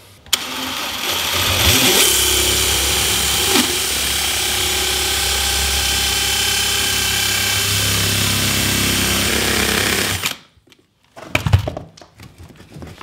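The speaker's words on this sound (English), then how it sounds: "All I need to do is get my inside pipe cutter and cut this down" A powered inside pipe cutter cuts down a shower drain pipe during a compression-drain shower pan install: a loud, steady grinding whine runs for about ten seconds, then stops abruptly, followed by a few scattered knocks.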